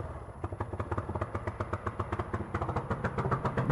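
A Honda CRF230L dirt bike fitted with big knobby tires rides off-road, its single-cylinder engine thumping in a steady rapid pulse close to the microphone, with clattering bumps over the trail.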